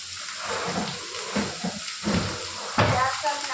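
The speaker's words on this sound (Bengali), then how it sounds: "তেল গরম হয়ে গেছে, ফেরেস্তার জন্য পেঁয়াজটাকে ভালো করে ভেজে নেবো" Onions frying in hot oil for a veg biryani give off a steady hiss and sizzle, with louder crackling swells as they are stirred, close and continuous, while a voice speaks over it.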